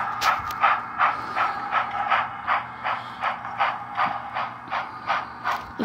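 A model N&W 611 steam locomotive running around a curve of track, giving a steady, evenly spaced chuffing beat with a hissy edge. It is fairly close and clear, with no talk over it.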